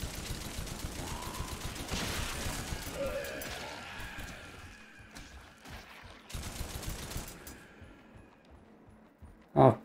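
Gunfire in the Doom-like dungeon shooter Scathe, dense bursts of shots and crunching impacts layered over a game soundscape, loud through the first half, then thinning into scattered hits.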